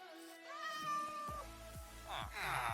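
Cats in a Minecraft flat world meow several times in succession, close and clear, with tonal game sounds in the background.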